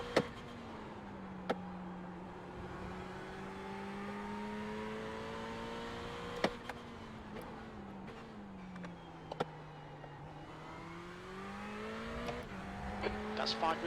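A Ferrari 488 GT3 in iRacing at Laguna Seca's corkscrew, its engine droning steadily then dropping in pitch as it brakes hard, with faint tyre noise and a voice talking over it throughout.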